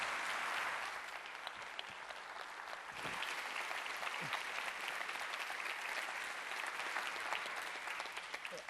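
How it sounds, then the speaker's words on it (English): Sustained applause from a conference audience fills the room, a dense steady patter of many hands clapping at a moderate distance, holding evenly throughout with a few scattered louder claps. "you got a little more applause than me"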